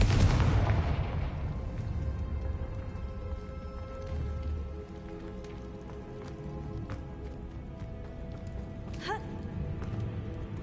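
Confringo fire spell explosion in Hogwarts Legacy: a loud, close blast opens, then decays into a long rumbling roar with scattered crackles and a brief whooshing sweep late on.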